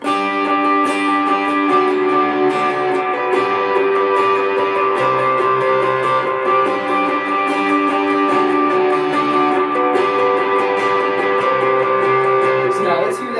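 A sustained electric guitar chord phrase with shimmering effects and slight distortion, chords shifting slowly and ringing continuously throughout.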